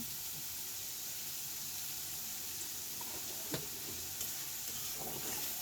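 Carrot pieces fry quietly in a pan, a soft steady sizzle with occasional scraping stirs and small clinks of a spatula, fairly faint and close.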